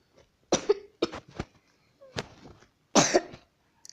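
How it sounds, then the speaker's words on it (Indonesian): Repeated coughing from a person nearby, several separate bursts of coughs and throat sounds spread across a few seconds, fairly loud with brief gaps between them. "aku kayak batuk-batuk"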